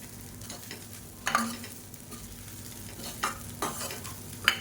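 Cooked rice mixed into a hot pan for a lunch-box dish, a soft low sizzle with scattered scrapes and taps of the spoon, the sharpest near the end, and no talking.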